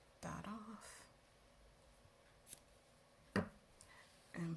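A few quiet, crisp snips of scissors cutting crochet yarn on a Christmas stocking, spaced apart with soft rustling between them.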